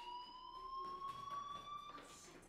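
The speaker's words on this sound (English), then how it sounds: "Do you hear that fire alarm? That means you should be outside." A fire alarm in the video game Life is Strange gives a steady, sustained electronic tone with a slight upward drift. It sounds faint and continuous over quiet room noise.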